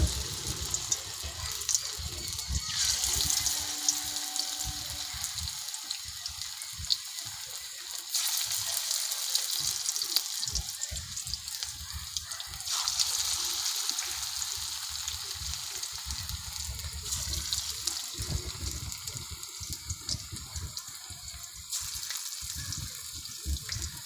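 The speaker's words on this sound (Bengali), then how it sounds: "তেল গরম হয়ে গেছে, এবারে আমি একে একে পকোড়াগুলো তেলে ছেড়ে দেব।" Papaya pakoras fry in hot oil, a broad, steady hissing sizzle that swells and eases over a long stretch, close and fairly loud with no talking.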